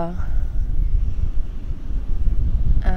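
Wind buffets a microphone outdoors, a loud continuous low rumble that surges and dips, with brief bits of a voice at the start and end.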